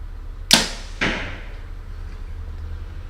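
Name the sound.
compound bow shooting a Victory V Force arrow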